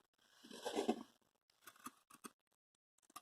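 Scissors snip through soft minky fabric near sewn seams in a few short, quiet cuts with brief pauses between them.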